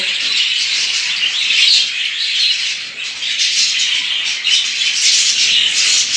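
Dense, continuous chatter of many budgerigars chirping together in an aviary, steady and fairly loud with no gaps, like a crowded flock of parakeets.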